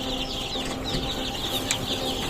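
Newly hatched domestic chicks cheep continuously in high, thin peeps, close and fairly steady, over a faint background hum.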